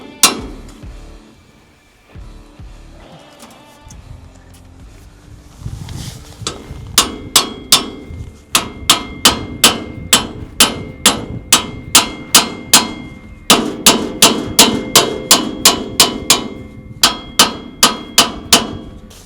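Rapid, ringing hammer blows on metal, loud and close, coming in quick bursts of evenly spaced strikes after a brief quieter start.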